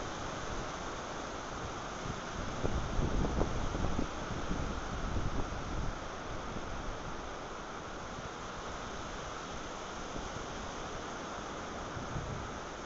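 Hurricane Irene winds in August 2011 roar in a broad, continuous rush with heavy buffeting against the microphone that swells louder for a few seconds, then settles into a steady blast, with no voices.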